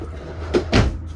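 Inside a 2021 Forest River Salem Hemisphere travel trailer, a wardrobe or drawer is handled, producing two quick close knocks, a light bump followed by a louder thud, over quiet room noise.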